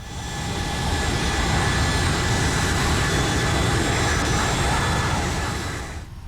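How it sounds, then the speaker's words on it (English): A Boeing 757 jet taxiing toward the runway at Denver International in the X-Plane 11 flight simulator, with a steady loud engine roar and whine that swells in and fades near the end. "let's release the parking brake and taxi to the runway."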